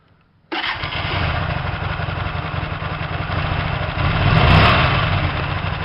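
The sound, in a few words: Hyosung 125 GTR motorcycle engine starting and idling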